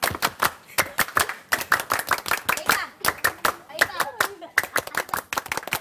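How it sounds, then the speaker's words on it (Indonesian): A group of scouts performs the rhythmic tepuk pramuka clap, sharp, crisp claps in tight patterned bursts with brief pauses between phrases, with voices chanting along in the gaps. "Tepuk pramuka!"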